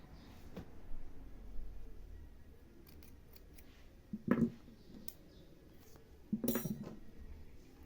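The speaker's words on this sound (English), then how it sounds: "then I cut my yarn" Two crisp snips of scissors cutting yarn during crochet work on a hexagon cardigan, close and distinct against a quiet room, spaced a couple of seconds apart with faint handling rustles.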